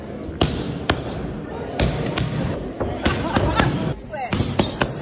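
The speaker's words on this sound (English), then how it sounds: "Boy, do y'all hear the punches?" Punches landing in a boxing match, a string of sharp, loud thumps at irregular intervals, heard close over a background of talk and crowd noise.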